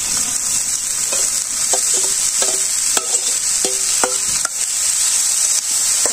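Sweet potato leaves frying in a pan with onion and chilli, a constant bright sizzle under a few light, irregular knocks and scrapes of a stirring spoon, no talking.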